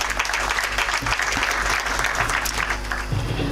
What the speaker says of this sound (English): Let's give them a hearty clap